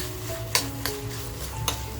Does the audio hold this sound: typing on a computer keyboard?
no